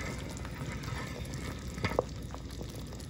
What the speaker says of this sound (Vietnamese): Nồi súp tôm hùm sôi lên rồi nè các bạn.